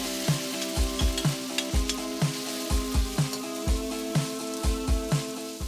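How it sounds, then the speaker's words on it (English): Ground beef frying in hot cooking oil in a pan, a steady close sizzle broken by a series of sharp, rhythmic spatula scrapes and knocks against the pan, no voices. "Drop in the ground beef and spread evenly."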